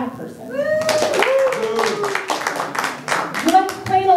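Comedy-club crowd claps in scattered bursts while many voices cheer, whoop and call out over it, a lively mix of nearby talk and shouts with the applause running throughout.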